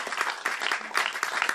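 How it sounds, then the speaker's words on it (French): An audience applauds the sound engineer at a film screening discussion, a short burst of fairly close clapping with separate hand strikes audible within the wash. "applaudissez mon ami ingénieur du son"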